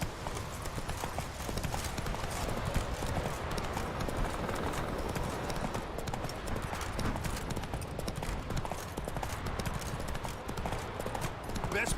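Horse galloping in The Witcher 3 video game, a continuous rapid clip-clop of hooves throughout, loud and close, with a voice talking over it at times.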